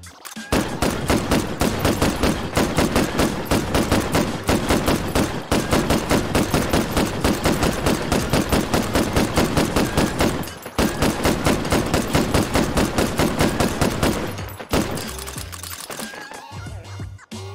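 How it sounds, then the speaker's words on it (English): Hand-cranked Gatling gun firing at bricks in H3VR, long bursts of rapid evenly spaced shots, loud and close, with two brief pauses before the firing trails off. "Bricks versus hand cranked Gatling gun."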